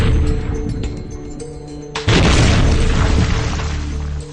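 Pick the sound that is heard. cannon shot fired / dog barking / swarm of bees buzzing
cannon shot fired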